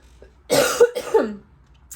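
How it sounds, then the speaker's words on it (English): Two sharp, close coughs in quick succession, raspy and loud, with quiet before and after. "Please excuse me if I'm coughing."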